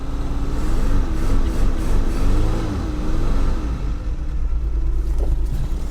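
The engine of a 1984 Chevy Citation, sitting outdoors in cold weather, runs loud and close after starting; the idle wavers and surges slightly in pitch, and there is no talking.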